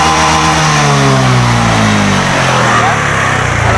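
A fuel-injected engine roars close and loud, its tone sweeping through a hard rev and falling back as the throttle eases.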